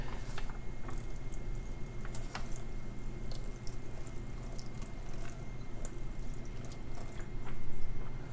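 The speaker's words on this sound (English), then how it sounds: "This is just regular tap water." Regular tap water running from a faucet over a taped page of dry fountain pen ink, a steady close splashing flow with scattered drips, growing slightly louder near the end, no voices.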